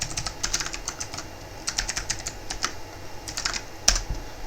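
Typing of Python code on a computer keyboard, quick irregular clicks and keystrokes close by with short pauses and a sharper key hit near the end, no talk.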